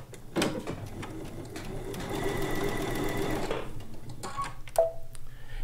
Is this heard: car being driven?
no